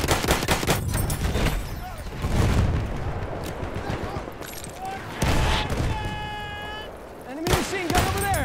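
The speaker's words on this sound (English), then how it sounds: "Enemy machine gun over there!" Enemy machine gun fire in the video game Battlefield 1, heavy rapid bursts with explosions and battlefield din, people shouting over the chaotic gunfire throughout.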